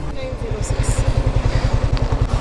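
A motorcycle ridden for food and parcel deliveries, its engine chugging in a fast, steady low pulse that dominates up close, with some faint clatter over it.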